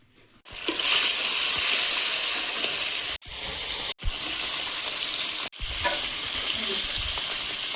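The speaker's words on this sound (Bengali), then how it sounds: "এদিকে মাছে নুন হলুদ মাখিয়ে নিয়েছি, মাছটা ভেজে নেব।" Rohu fish fry in hot oil in a wok with a loud, continuous sizzle near at hand. It cuts off abruptly several times, as if the lid or pan is moved, then surges back, with faint stirring scrapes.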